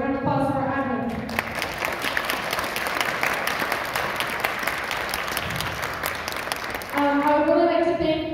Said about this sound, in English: So a round of applause for our admin.